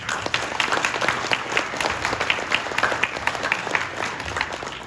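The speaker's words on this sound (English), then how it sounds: "We can give them a round of applause" Crowd applause at a Hmong community appreciation event honoring a governor and state senator, a steady patter of many hands clapping at moderate level, fairly distant.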